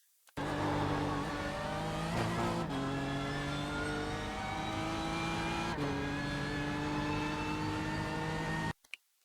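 BMW M4 GT3 race car in iRacing held at full throttle, its engine a loud, steady high-pitched roar climbing through gears with brief shift dips, running continuously for about eight seconds before cutting off.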